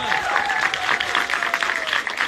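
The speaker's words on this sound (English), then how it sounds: "I'd like to have a round of applause for the three writers" Audience clapping for three writers fills a live event hall, a steady dense patter of many hands at moderate loudness, with a few crowd voices mixed in.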